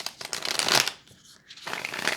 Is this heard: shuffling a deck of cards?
yes